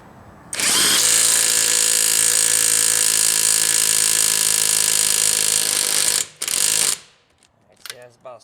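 A new 2021 Makita 1/2 inch impact wrench hammers a fastener tight in one loud, continuous burst of about six seconds, with a brief pause and a short second blast before it stops.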